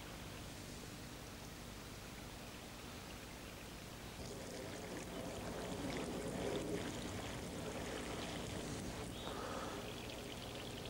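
Water poured through a sock filter packed with charcoal, sand, moss and grass gives a soft hissing trickle that swells into a fuller, steadier stream partway through, close and unaccompanied by speech.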